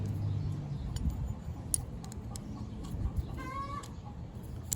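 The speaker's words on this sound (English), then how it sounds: "Sorry about that, I have chickens." Backyard chickens cluck in short, scattered calls, fairly faint over steady low background noise, with a brief run of rising notes near the end.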